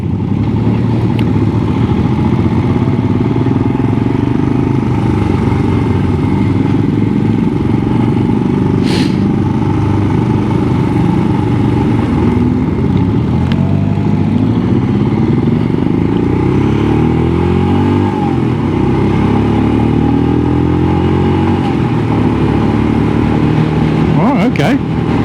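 A Royal Enfield motorcycle, newer than the old Himalayan, rides at a festival with a steady engine drone and rising, shifting pitch sweeps as it picks up speed, a voice talking over it throughout.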